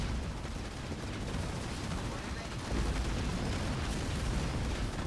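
A supply pad blows up in a Halo Wars 2 real-time strategy match, a dense rumbling blast with crackling gunfire-like bursts, loud and sustained, mixed with ongoing battle noise and commentary.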